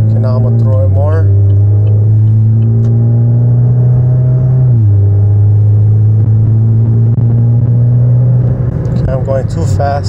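Heard from inside the cabin, a Chevrolet Camaro 2.0T with an intake and muffler delete drones loudly as it accelerates on the road, revving up through gear shifts in a steady rumbling pull.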